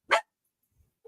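A single sharp, loud bark from a nearby female Chihuahua-type dog, one brief burst followed by near silence and a faint thump.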